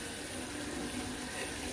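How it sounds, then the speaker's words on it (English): Tap water pours steadily into a bathtub in a home bathroom, a continuous broad rushing hiss with no other sounds over it. "Let me go see how much water is in this tub"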